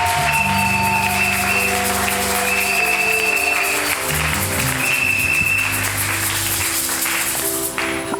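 A church congregation claps for the Lord in dense, sustained applause that fills the room without pause, with keyboard notes sounding underneath.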